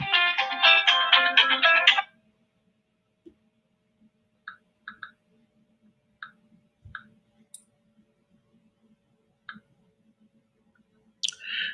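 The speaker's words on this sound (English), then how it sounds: "the person who has my phone number out there who keeps ringing my phone during live streams" A phone rings during a live stream, a dense buzzy ring lasting about two seconds near the start, followed by near silence broken by scattered faint clicks and taps.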